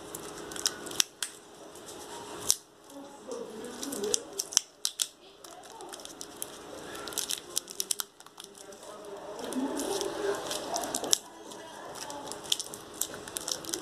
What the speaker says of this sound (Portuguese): A gente, como tem a fita, né, a gente vai usar a fita aqui, ó, pra tá segurando isso, ó.